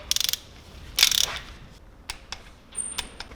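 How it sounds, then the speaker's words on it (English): A hand ratchet tightens bolts on a BMW S54 cylinder block, giving several short bursts of rapid metallic clicking with brief pauses between them, close up with no talking. "So now I'm going to tighten them up once again to 25 Newton meters."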